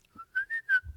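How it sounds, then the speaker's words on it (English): Whistling carries across a river at night, a few short, clear tonal notes in quick succession, brief and fairly quiet against an otherwise silent background. "across the river we heard some whistling"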